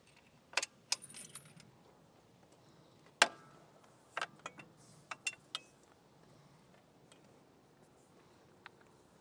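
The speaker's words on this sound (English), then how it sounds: "if we're going to unload the bike, we're first going to undo our cable lock" Keys clinking and jangling while unlocking the cable lock of a Kuat Sherpa 2.0 bike rack on a 2025 Hyundai Palisade, a close series of sharp metallic clicks and rattles in irregular bursts, then quiet.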